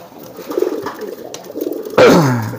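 A racing pigeon coos in courtship display, a soft rumbling murmur followed by a louder, close drawn-out coo near the end, with no talking.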